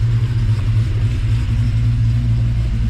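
A 1967 Chevelle's big-block V8, freshly refreshed and fitted with a Sniper 2 fuel injection setup, idles steadily with a deep, loud, close-up rumble that holds constant throughout, no voices present.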